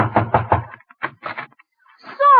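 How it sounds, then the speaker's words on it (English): Knocking on a door in a 1947 Christmas radio comedy show, a quick cluster of loud raps followed by two softer groups of knocks, with a brief voice sound at the end. "I'll knock on the door."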